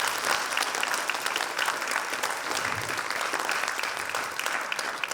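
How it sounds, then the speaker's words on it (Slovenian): Lecture audience applauding steadily, a full even wash of many hands clapping at moderate loudness, with no talk over it. "tako da bi prosil za resen aplavz."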